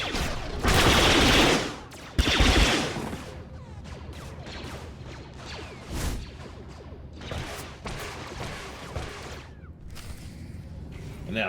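Bursts of pistol fire during a combat ambush in The Old Republic, a Star Wars video game, come as a loud volley early on, followed by scattered shots and impacts under background music and effects, with a voice talking over it.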